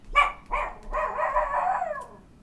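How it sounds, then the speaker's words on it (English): Dogs bark and yelp nearby in a quick run of sharp calls that stretches into a longer whining howl, heard clearly at moderate loudness. "that's my dogs, by the way, if you can hear that"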